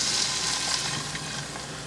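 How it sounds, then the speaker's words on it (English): About 12 ounces of beer poured into a hot cooking pan to deglaze it for beer and cheese soup, a loud, bright sizzle that fades slightly over its short span. "from here we're going to deglaze with the beer"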